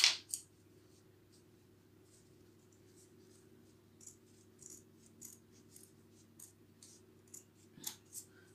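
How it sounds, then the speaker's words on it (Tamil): Scissors snip through folded pieces of paper in a quiet room, a series of faint, irregular clicks and crisp cuts over a low steady hum. "இப்போ நான் இதை மடித்து கட் பண்ணுறது தான் நம்ம இப்போ செய்ய போகிறோம்."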